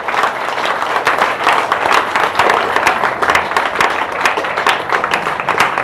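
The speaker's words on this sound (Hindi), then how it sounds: "इसके लिए मैं चाहूँगी एक बार जबरदस्त ताली होनी चाहिए" An audience at a health-product gathering gives a big round of applause, a dense, continuous wash of many hands clapping at full strength from start to finish.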